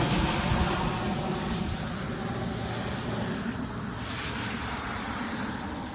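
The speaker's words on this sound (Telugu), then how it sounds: "నీళ్ళు పోస్తున్నాం మునగ కింద" Water pours from a hose onto plants under a drumstick (moringa) tree in a home garden in America on a warm late morning, a steady, broad, hissing wash that runs unbroken throughout with no voices.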